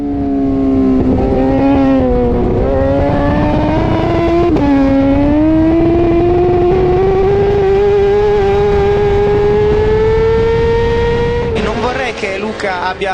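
Racing motorcycle engine in a racing video game, held loud and steady at high revs for most of the run, pitch climbing slowly with a brief dip and shift change midway, then cutting away to a rougher burst near the end.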